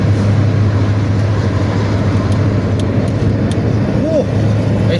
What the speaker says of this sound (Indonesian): Bus Pantura Bumel yang masih menggunakan knalpot ngorok